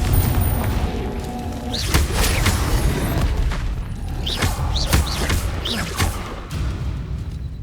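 Confringo fire spells bursting in combat in Hogwarts Legacy: a string of sharp, booming blasts every second or so, each a loud crack over a constant rumble of game noise.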